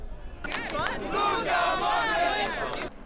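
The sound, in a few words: football fans cheering in America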